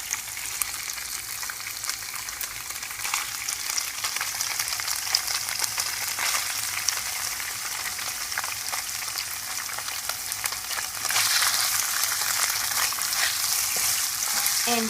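Tofu and imitation ham frying with garlic and chili in a pan for vegetarian fried rice, a continuous close sizzle with faint stirring crackles that grows slightly louder toward the end.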